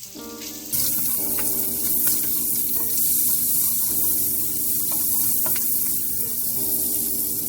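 Sausages sear in a hot pan with a loud, steady sizzle that bursts in just under a second into the clip and holds without a break to the end, with a faint tonal hum running underneath.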